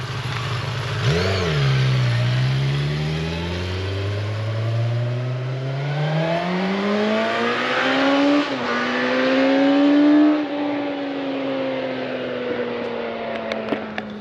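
A 2020 Suzuki GSX-S 1000 motorcycle engine revs up on a dyno, its pitch climbing in long sweeps and rising again in repeated pulls, loud and close with no talk over it.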